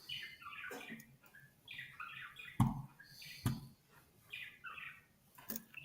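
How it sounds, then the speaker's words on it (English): Birds chirping outdoors in short, scattered bursts of tweets and squawks at low volume, with a couple of brief thumps in between. "hear the birds chirping."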